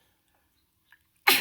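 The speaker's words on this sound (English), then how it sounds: "Hold on, I got to sneeze." After near silence and a tiny click, one sharp, close sneeze bursts out abruptly at the very end.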